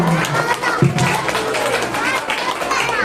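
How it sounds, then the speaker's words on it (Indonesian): A crowd at an elementary school anti-bullying and anti-drug session applauds with steady clapping, mixed with voices and chatter throughout. "Bisa tepuk tangan dulu buat Mas Karel."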